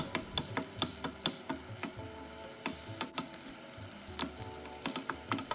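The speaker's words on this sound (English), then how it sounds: "Now gently press down on the rice and break them up with your spatula." A spatula presses and breaks up short-grain rice frying in a pan for kimchi fried rice, giving steady sizzling under a series of sharp, regular taps and scrapes close by.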